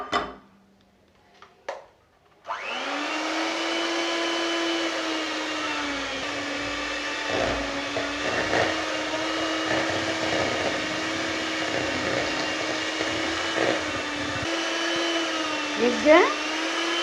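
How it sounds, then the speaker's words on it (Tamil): An electric hand mixer beats butter for a rich plum cake in a home kitchen, a steady close whirring hum that starts after brief clicks and runs continuously with slight changes in pitch. "நம்ம வந்து நல்லா பீட் பண்ணணும்"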